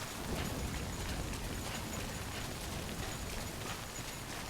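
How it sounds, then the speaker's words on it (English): Steady, dense rain hiss in the video game Death Stranding, a constant wash of falling rain filling the scene without pause, with no voices over it. "The rain's letting up, but it's getting darker."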